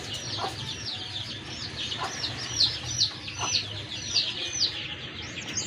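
Pigeons in a loft give a steady stream of soft calls and chirps, with repeated brief vocal bursts rising over a constant low room hum throughout.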